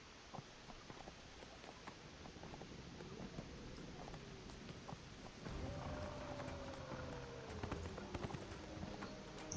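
Horse hooves clip-clop steadily in the Neverwinter video game, a quiet repeated clatter under a rain-like wash of background noise, with a tonal in-game sound rising in the second half.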